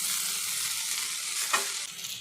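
Street-style vegetable chow mein hisses and crackles as it fries hard on a high flame, a continuous near sizzle with a brief scrape or clank of the spatula partway through.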